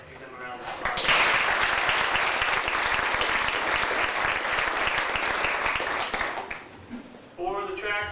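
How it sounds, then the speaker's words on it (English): A crowd at a school sports gathering breaks into loud, steady applause for the junior high helpers, sustained for about six seconds before fading, with a voice talking briefly before and after. "I'd like to give them a round of applause"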